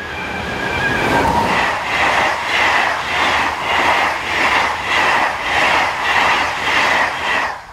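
An SNCF BB15000 electric locomotive, number 15034, hauls a train toward Le Havre, with loud rhythmic clickety-clack from the wheels passing close by in regular beats.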